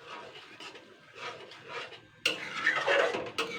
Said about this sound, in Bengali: তো এবার আমি এটাকে সুন্দর করে মশলাটাকে আগে ঘেটে নেব।